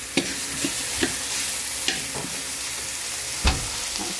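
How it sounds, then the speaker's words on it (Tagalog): Mussels being sautéed in a pan with tomato, garlic, onion and ginger: a steady close sizzle with occasional clicks and stirring knocks, no talking. "Gisa po natin sa kamatis yung tahong para masarap."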